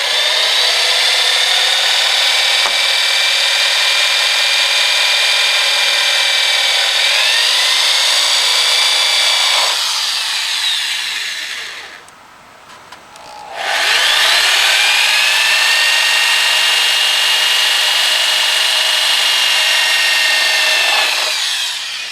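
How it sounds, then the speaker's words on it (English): A power drill whines loudly and steadily, drilling through taped marks on motorcycle bodywork, pitch shifting as it bites, with a brief pause before a second long run of drilling. "Basically just drilling them right through the marks I put on the tape."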